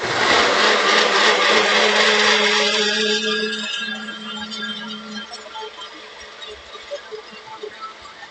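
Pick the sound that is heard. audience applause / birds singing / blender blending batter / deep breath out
blender blending batter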